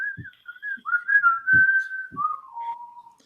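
Whistled tune from people, a clear melodic line of rising and falling notes with a long held tone, near and fairly loud, with a few low thumps underneath.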